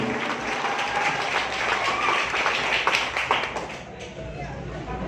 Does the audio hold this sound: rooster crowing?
no